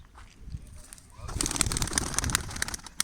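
Racing pigeons coo and flutter nearby in a coop, soft calls that get busier halfway through, with a faint murmur of background noise.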